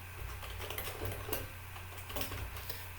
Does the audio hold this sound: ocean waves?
no